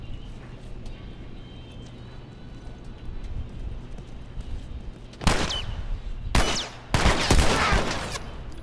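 Gunfire in The Last of Us Left Behind: a few loud, sharp shots ring out in close succession after a stretch of low, steady game ambience.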